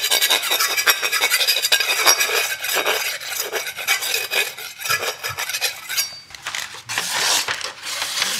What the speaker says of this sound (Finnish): Tehdään nyt tämä perinteinen pylsytysoperaatio tähän tiililaattaan.